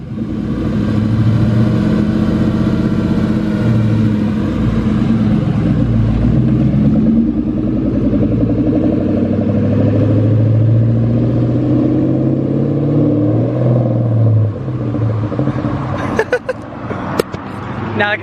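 A 2020 Kawasaki Z650 motorcycle engine runs steadily and loud up close for most of the stretch, with people talking over it, then drops off near the end amid a few sharp knocks.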